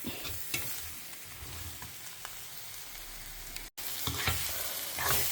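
Brinjal sautéing in a pan for kara kuzhambu, a steady close sizzle and fry with occasional stirring scrapes, briefly cut out near the end before resuming.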